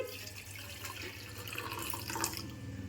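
Water trickles and splashes softly into a container, a faint steady pour with light drips and no voices.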